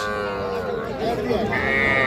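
Cattle at a livestock market selling small bulls and heifer calves, with a loud close moo that rises and holds, set against busy market background noise.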